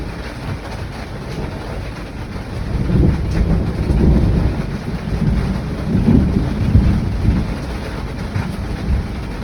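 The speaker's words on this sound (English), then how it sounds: "As darkness fell, the storm raged on." A night thunderstorm over a narrowboat mooring, with steady heavy rain hissing and low thunder rumbling in slow swells, loud and close throughout.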